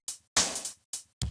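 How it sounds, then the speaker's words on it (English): A short, dry breakbeat drum loop isolated from a track, crisp hits with snappy cymbal-like hiss, four punchy strikes over about a second, fairly quiet. "isolate just that one drum loop"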